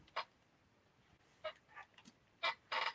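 An office chair creaks and squeaks in several short, sharp bursts, with a louder pair near the end, over a quiet room with no talking.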